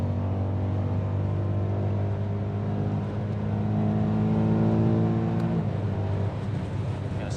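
A BMW E92 M3 on the Nürburgring drones steadily from inside the car, its engine tone rising gradually before a brief shift and drop near the end.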